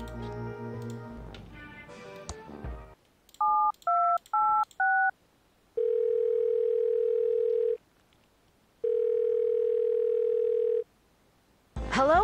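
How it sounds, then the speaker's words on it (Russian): Phone line rebooting in the video game Thimbleweed Park: a quick burst of dial tones, four stepped two-tone beeps, then two long steady tones separated by a pause, clean and electronic. "KSCUM's phone system is now rebooting."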